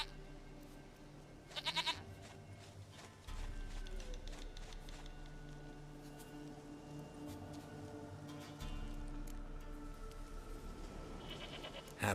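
A goat bleats in The Witcher III game, a few short, faint calls heard over a steady low ambient hum and soft background noise.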